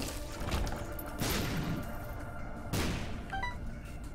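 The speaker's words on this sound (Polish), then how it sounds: "Te malutkie wybuchy." Small explosions in The Binding of Isaac (Heretic mod) go off in a few quick bursty pops over a dense, continuous layer of game music and effects, fairly loud, with no talking.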